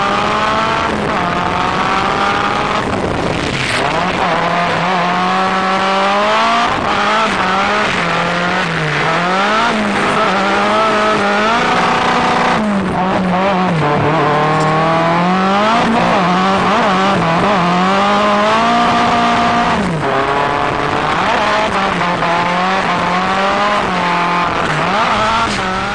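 A drift car's engine revs hard and wavers up and down continuously while its tires squeal through long slides, loud and close throughout with no talking.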